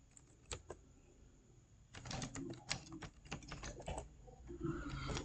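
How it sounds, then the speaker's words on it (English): Close, rapid clicking of a computer keyboard: a few isolated taps, then a steady run of quick keystrokes. "you can begin typing"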